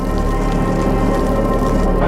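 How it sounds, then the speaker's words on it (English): Heavy rain pours steadily in a dense, unbroken wash of noise, loud and close throughout. "It continues to rain heavily."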